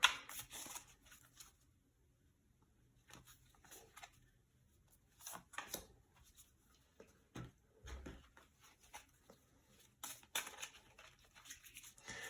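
Tarot cards are shuffled in soft, quiet bursts of riffling and patting, scattered in short clusters with pauses between them and no talking.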